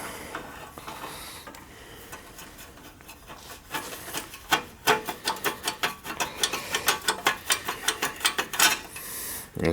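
A ratchet wrench loosens the battery ground cable bolt on a John Deere 318 garden tractor, starting with slow scattered clicks and building into a rapid run of sharp, close ratcheting clicks.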